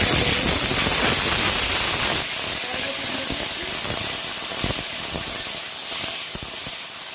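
Green yardlong beans frying in a kadai, a dense steady hiss and sizzle that runs throughout with faint scattered crackles.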